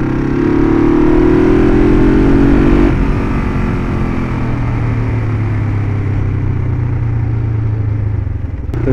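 Close, loud running of a 1971 Honda CL450 motorcycle engine, revving steadily at first, then dropping back around three seconds into a lower throbbing run that holds until a brief fade at the end.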